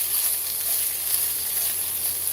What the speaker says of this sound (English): my garlic is sizzling in